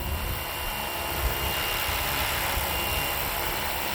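A giant RC helicopter flies nearby with a loud, steady whine and rotor roar, a constant engine drone and high-pitched turbine tone throughout, close and unbroken.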